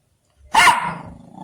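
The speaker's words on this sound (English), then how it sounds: "Why are you barking so loud?" A small dog wearing a leather jacket lets out a loud, close bark with a growly edge, followed by a trailing rumble, with no talking over it.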